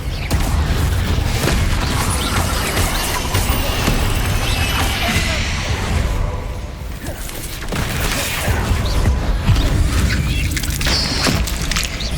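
A Confringo fire spell blast in Hogwarts Legacy, heard as loud crashing booms and mechanical rumbling in a sustained, chaotic stretch of combat noise that dips briefly midway before surging again.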